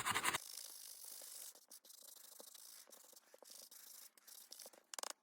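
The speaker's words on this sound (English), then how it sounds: "And I don't want to sand it too hardly, too deep." Sandpaper rubs lightly along the inside edge of an altered playing card in close, soft scratchy strokes, faint and continuous with small pauses and a few sharper scrapes near the end.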